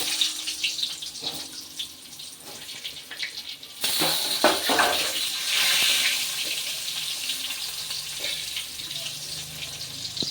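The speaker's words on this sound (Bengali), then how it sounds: "এই তেলেই ভেজে নেব আলু আর পেঁপে। প্রথমে আলুগুলো ভেজে নিচ্ছি।" Potatoes dropped into hot oil for a home-style egg curry burst into loud, sustained sizzling hiss after a quieter start, with no voices.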